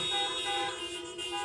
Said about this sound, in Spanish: pitazo para Jesús